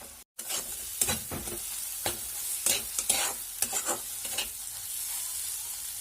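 Fish pieces for a sour Assamese fish curry frying and being stirred in a pan, a steady sizzle under repeated scraping strokes and occasional sharper knocks of the spoon.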